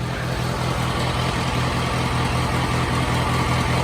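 A vintage IH Farmall Cub tractor engine idles steadily and loudly up close, with a continuous rhythmic low chugging that holds evenly throughout, with no talk.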